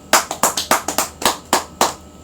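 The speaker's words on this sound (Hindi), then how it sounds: "यीशु मसीह जी की महिमा के लिए तालियां।" Rhythmic clapping from a church congregation during worship, about nine sharp, evenly spaced claps in a steady beat, close and loud with no voices over them.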